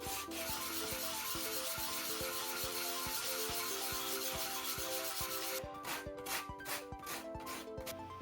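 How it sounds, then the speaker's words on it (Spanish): 80-grit sandpaper wrapped on a sponge rubs back and forth over the wooden hull of an HMS Beagle model ship, a steady rhythmic scraping under a continuous musical backing, close and even. "empezamos a lijar la parte central del casco y la popa"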